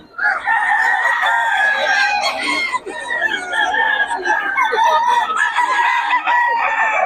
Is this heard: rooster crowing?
yes